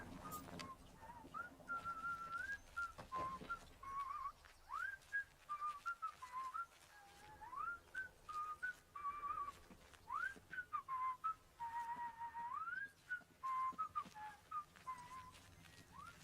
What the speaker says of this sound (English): I hear him whistling.